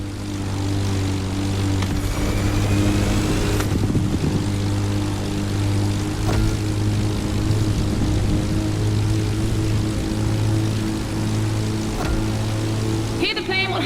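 A propeller plane races an AGP car in the video game The Crew Motorfest, its engine a loud, unbroken droning hum with steady tonal harmonics lasting throughout.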